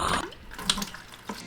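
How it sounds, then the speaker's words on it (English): Water is drained from a fish tank holding platy fish, with a close, gurgling, splashing flow that keeps going, broken by a few brief louder sloshes. "I'm just gonna go ahead and start draining a lot of the water in this tank."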